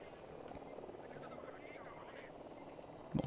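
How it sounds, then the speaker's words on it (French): A helicopter in the video game Ghost Recon Wildlands keeps up a steady rotor drone throughout, moderately loud and continuous, with a brief louder thump near the end. "on est toujours traqué, il y a toujours l'hélico."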